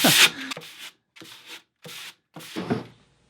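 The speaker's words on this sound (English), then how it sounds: "I'm going to be sanding in line with that" Sandpaper rubs along the grain of wood furniture in four short, separate strokes, close and dry with brief pauses between them.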